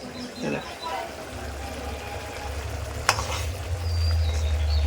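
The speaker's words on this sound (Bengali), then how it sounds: "আর মাংস কষতেছে, কষানো হচ্ছে" Meat sautéed in a pan for kosha gives a continuous sizzle with stirring sounds, while people talk nearby.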